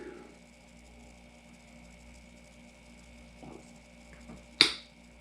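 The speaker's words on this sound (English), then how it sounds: "I'm snapping to kind of get some airflow over my palate, and it makes that noise." A single sharp, close mouth snap against the palate pops out near the end after a few seconds of quiet room noise, with a faint softer click beforehand.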